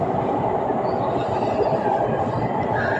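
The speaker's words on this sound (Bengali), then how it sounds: "ট্রেনে কি শব্দ!" A train rolls past a home on a rainy day, giving a loud, steady rumble of wheels and carriages with faint clatter and squeal. The noise runs continuously with no voices.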